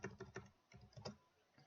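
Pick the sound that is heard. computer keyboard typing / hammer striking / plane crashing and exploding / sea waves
computer keyboard typing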